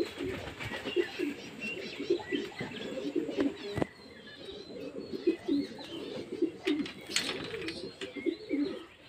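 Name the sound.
flock of pigeons cooing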